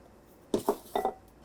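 A spoon stirs ingredients for a Southern hash brown casserole in a skillet, giving four quick metallic clinks and scrapes in two pairs against a quiet background.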